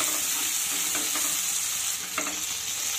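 Eggplant frying in a pan over medium heat gives a steady hissing sizzle, close and even, with a few soft scraping stirs breaking through; no one speaks.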